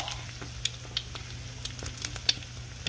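Eggs fry on a Blackstone griddle in leftover bacon grease, giving a steady low sizzle with small pops and crackles scattered throughout, close and fairly quiet, with no talking.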